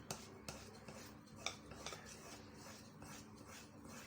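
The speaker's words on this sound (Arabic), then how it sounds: "اقلب بقى ايه في اتجاه واحد كده لغايه ما يبقاش في حاجه مكلكعه ولا يبقى في دقيق باين" Wet batter is stirred into flour in one steady direction with a utensil, giving soft, close scraping and light clinks that repeat throughout.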